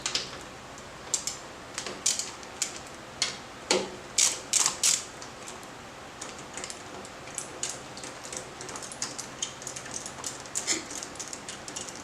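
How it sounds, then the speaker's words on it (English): Small 4mm bolts come off the instrument panel of a Yamaha Warrior 1700 motorcycle in a close series of quick ratcheting clicks and tool taps. The clicks are densest early and thin out over a faint background hiss, with no talking. "Now to remove the instrument panel, you're going to take off the two 4mm bolts on either side of this."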